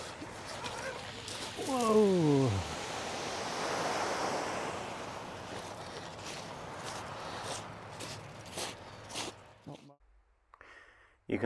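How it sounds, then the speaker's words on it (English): Calm sea waves wash in steadily on the Sussex shore at Seaford as the tide comes in, a soft continuous surf with wind noise, a bird-like call near the start and some handling thumps toward the end. "Tide's coming in, sea's nice and calm"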